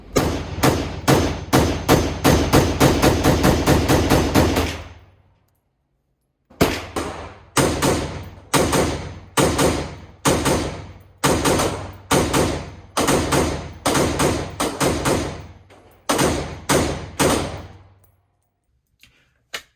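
Springfield Armory Hellion bullpup rifle fired at an outdoor range: a rapid string of loud, sharp shots for about five seconds, a pause, then more shots in quick bursts and singles, each with a short decaying echo.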